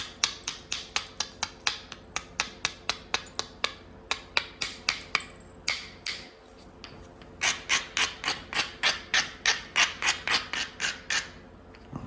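Steady, rhythmic rasping strokes from grinding and beveling the edge of a stone preform, about three scrapes per second, close and crisp, with a brief pause in the middle before the strokes resume.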